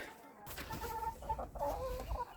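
Hens in a backyard flock cluck in short bursts, near and moderately loud, over a steady low outdoor rumble.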